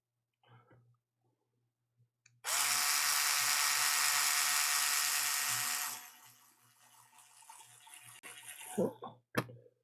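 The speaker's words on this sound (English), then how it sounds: "Oh my god, this is so much easier on a drill press." A drill press drills through a workpiece in a steady, loud whine lasting about three and a half seconds before it winds down, followed by softer clatter and a couple of sharp knocks, with a low hum running underneath throughout.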